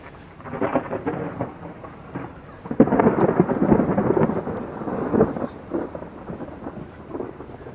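Deep rumbling thunder rolls through a lightning storm, swelling into loud peaks mid-way and fading, with steady rain pattering underneath throughout.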